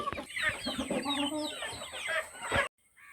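Native free-range Kerala chickens, including spotted and Karinkozhi birds, cluck and squawk in a busy, close flurry of short calls for a few seconds while being fed, then the sound cuts off abruptly into near silence.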